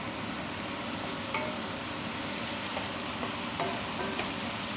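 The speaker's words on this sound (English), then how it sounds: "I love the smell of garlic cooking." Garlic frying in a pan, a steady soft sizzle with faint clicks and utensil taps, no voices.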